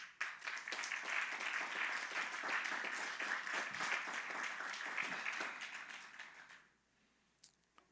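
A church congregation applauds during a sermon, a steady crowd of clapping that holds evenly for about six seconds before dropping off abruptly to near silence, with a few faint scattered claps after.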